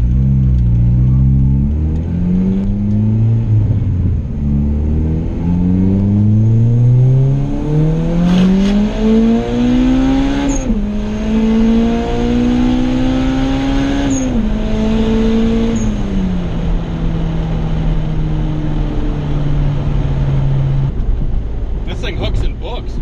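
A turbocharged Honda Integra GSR on low boost accelerates hard in second gear on a street, its engine note climbing steadily and loud from inside the car, with brief dips at shifts and a whining turbo throughout.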